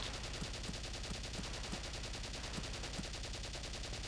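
Gunfire in the video game Valkyria Chronicles, a rapid, regular burst of shots repeating evenly across the whole stretch, dense and constant at moderate loudness.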